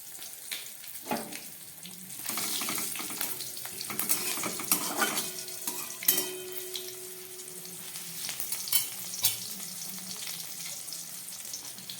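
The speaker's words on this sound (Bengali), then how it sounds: "ফোড়নটা আমার ভাজা হচ্ছে" Bay leaves, dried and green chillies and cumin seeds frying in hot oil as a tempering for a bitter mung and pea dal, giving a steady close sizzle with occasional stirring scrapes and clinks throughout.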